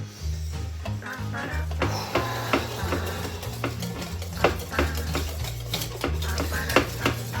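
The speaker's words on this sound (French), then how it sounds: "Là, je mélange" A whisk beating crêpe batter in a bowl, quick light taps and scrapes in an uneven rhythm, close by, over steady background music.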